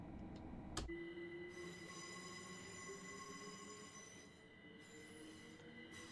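Heathrow to London Paddington train pulling away, wheels squealing with a rising tone over steady rumbling rail noise, a sharp clank near the start, heard from on board without talk.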